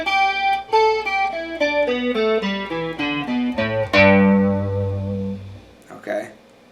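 A G pentatonic scale in the E-shape position runs note by note on an electric guitar with effects and distortion, climbing steadily and then ringing into a sustained chord before a short scratchy noise at the end.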